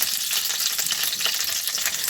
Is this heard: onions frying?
yes